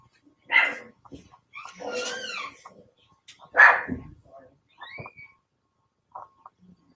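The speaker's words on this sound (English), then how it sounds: "there's a dog in the house that I stay in" A small black dog, about three or four years old, gives a few sharp barks and yips indoors in a house, in short separate bursts with quiet gaps between them and no talk.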